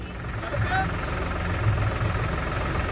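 A tractor engine idles with a steady low diesel rumble, close and continuous, with a faint voice in the background.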